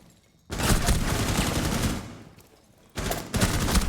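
Automatic gunfire rattles in a competitive shooter match, a dense, loud fusillade lasting over a second, fading, then a second burst kicking in sharply toward the end, with no talk.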